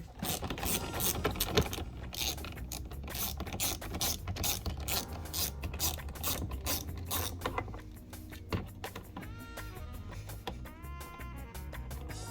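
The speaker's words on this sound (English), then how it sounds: "you're gonna need a 7mm socket down here." A ratchet with a 7mm socket backs out a bolt on a 2018 car door panel, with rapid clicking pawl ticks in quick runs, close and crisp, later slowing into separate stuttering clicks.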